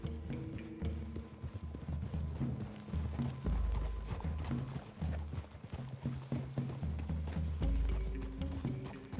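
Horses walking on a PS4 game trail through trees, a steady clip-clop of several hooves close by, with low music and ambience beneath and a brief snort.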